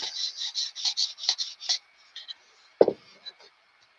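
A file or sanding stick rasps over a Sig pistol part in a quick series of short strokes, then a sharper knock, close up and otherwise quiet between strokes.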